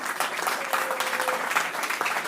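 Congregation applauding during a church sermon, steady dense clapping from many hands filling the room, close and continuous throughout.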